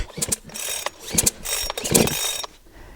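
A Stiga 755 or Solo 6656 chainsaw's pull-start cord is drawn several times in quick, light strokes, each a short ratcheting whir, close and fairly loud with no engine catching.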